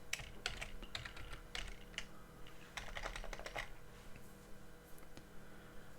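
Fingers tap a password onto an Android phone's screen keyboard in quick, quiet bursts of small clicks, close by, with a pause partway through before the tapping resumes.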